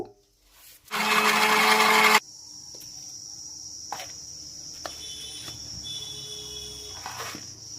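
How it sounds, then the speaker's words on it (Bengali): A mixer grinder whirs loudly for about a second while blending ingredients into paste for homemade dish wash liquid, then cuts off, leaving a steady high insect-like chirping and faint clicks. "মিক্সচার মেশিনের সাহায্যে এই জিনিসগুলিকে একদম মিহিভাবে পেস্ট করে নেব"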